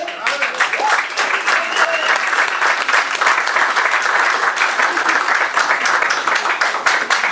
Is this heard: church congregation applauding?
yes